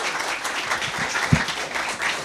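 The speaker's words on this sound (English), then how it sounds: "please join me in giving Sam a very big, warm welcome and round of applause" A lecture audience claps warmly to welcome author Sam Tanenhaus, a full steady wash of applause from a crowd with one brief louder clap near the middle.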